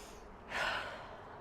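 One heavy exhale close to the microphone during a full-body workout, a short breathy rush of air rising and fading over quiet background.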